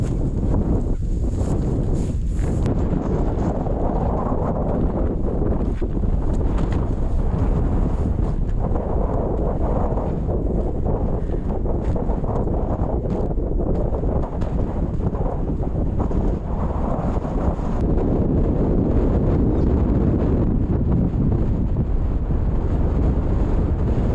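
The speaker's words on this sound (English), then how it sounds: "the wind just comes down off of Audubon and it just drives right into your face" Strong mountain wind pouring down off Mount Audubon on a steep hiking incline, roaring and buffeting hard against the microphone in a loud, continuous gusting rush with no voices.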